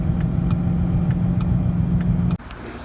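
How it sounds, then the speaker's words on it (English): A Ford Mustang driving on a flat rear tire, a steady loud low engine and road rumble with faint regular thumps repeating about twice a second, cutting off sharply near the end. "now I'm driving on a flat right now, trying to limp my way home"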